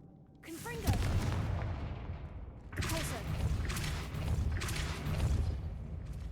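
Confringo fire spell explosions in Hogwarts Legacy, a loud burst near 0.5 s and another around 2.8 s, each followed by crackling fiery booms and rumble, with a few sharper blasts later and a steady low background throughout.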